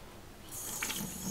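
Water rinsing a GY6 scooter cylinder head, a steady hissing spray that starts partway through and runs on, fairly faint and close.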